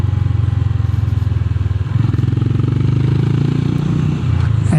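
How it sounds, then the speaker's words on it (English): A Honda GB 350 S single-cylinder motorcycle thumps steadily at close range, its exhaust note loud and even, with a brief shift in tone partway through as the engine pulls on. "absolutely fantastic about this bike is the exhaust note."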